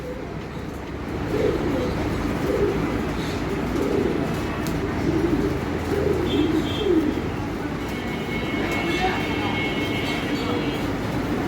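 Pigeons at a pigeon farm coo in low, rolling murmurs that come and go over a constant background hum, with other birds and faint voices around.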